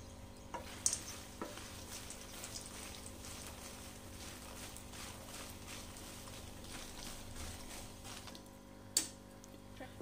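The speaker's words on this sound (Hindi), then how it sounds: "हमें एक बोल भर के मखाने को फ्राई कर लेंगे।" Fox nuts (makhana) frying in desi ghee, a faint low sizzle with soft stirring strokes and a couple of sharp clinks against the pan.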